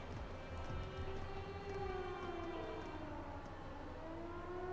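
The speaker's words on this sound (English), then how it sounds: "It sounds like a siren ellipsis. It seems to be coming from the fort." In the Trails of Cold Steel video game, a siren at a fort wails steadily, its tone gliding slowly up and down over a continuous hum, loud and unbroken, with no voices.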